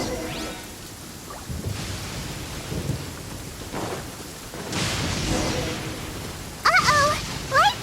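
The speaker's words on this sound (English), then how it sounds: "Uh-oh! Lightning storm!" Thunderstorm with steady rain in the Genshin Impact video game, low thunder rumbles rolling through a continuous rain wash, with a brighter burst of crackling near the end.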